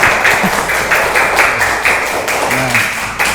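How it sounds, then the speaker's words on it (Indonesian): Children in a classroom clap together in a brief burst of applause, a dense patter of hand claps that runs steadily through the moment, close and fairly loud. "Bagus, tepuk tangan."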